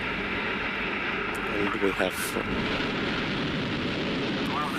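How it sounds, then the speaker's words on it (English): Russian rocket carrying a Saudi satellite lifting off, a steady, dense broadband roar filling the clip, with a commentator talking over it. "have the liftoff of this beautiful rocket on its flight into orbit"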